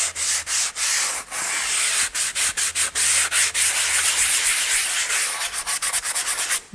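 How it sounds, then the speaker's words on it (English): Hand sanding of carved wood with folded sheets of 80 grit sandpaper, a close, dry, raspy rubbing in quick repeated back-and-forth strokes, steady and alone with brief gaps between strokes. "This is an 80 grit sandpaper."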